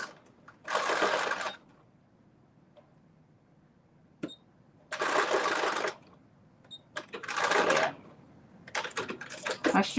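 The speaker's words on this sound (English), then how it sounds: "My sewing machine is talking to me" A home sewing machine runs in four loud, steady whirring bursts of about a second each, separated by quiet pauses with faint clicks.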